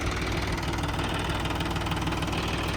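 A new John Deere 5210 4x4 tractor engine runs under load, close and loud, with a steady, dense throb and no pauses.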